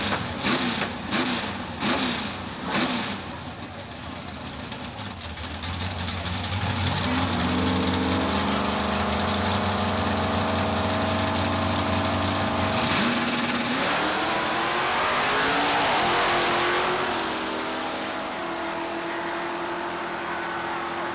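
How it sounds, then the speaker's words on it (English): A Chevrolet Camaro drag racing car at Southeastern Dragway in 1990 revs in several sharp bursts, then its engine builds into a long, loud, rising pull down the strip before fading. "Gary String with the Stroke Promotion Chevrolet Camaro coming at you out of the Barnett lane"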